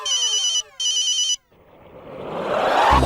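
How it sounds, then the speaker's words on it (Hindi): A telephone rings loudly and close by, two electronic ringtone bursts with a short gap between them, followed by a rising wash of noise. No one speaks. "बॉस का फोन है।"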